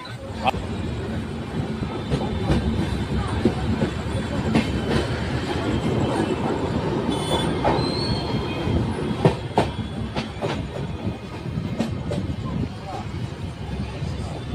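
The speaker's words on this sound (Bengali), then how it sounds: "ট্রেন এখন দক্ষিণেশ্বর ছেড়ে চলে যাচ্ছে।" A passenger train leaving Dakshineswar rumbles along the rails with rhythmic clickety-clack and occasional wheel squeals, as voices chatter nearby throughout.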